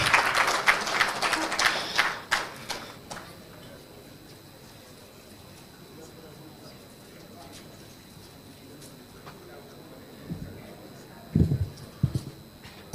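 Brief applause greets the young mayor of Keur Massar Sud at a press conference at CICES, a burst of clapping for about two seconds that fades into a quiet, murmuring hall with occasional faint knocks.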